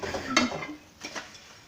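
Dishes being washed: a sharp close clink of plates and cutlery near the start, followed by softer clatters and scraping knocks with quiet gaps, no talking.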